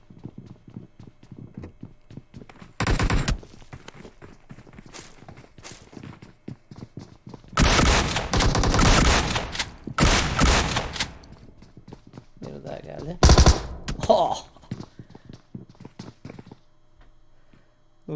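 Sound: Thompson submachine gun gunfire in PUBG video game

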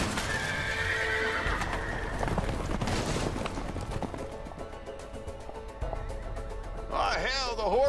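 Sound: horses galloping and neighing in video game A Way Out

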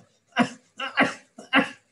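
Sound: speaker imitating a cough

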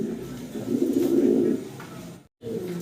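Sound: pigeons cooing

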